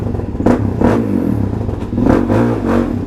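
A Suzuki DRZ400 motorcycle fitted with an FCR39 carburetor revs loudly and close, with several sharp throttle blips that rise and fall over a steady idle rumble.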